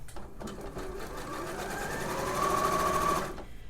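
Sewing machine with an edging hemming foot stitching steadily for a few seconds, a continuous close mechanical hum that swells slightly toward the end, with no talking.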